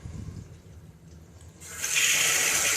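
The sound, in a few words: water running through hose during aquarium water change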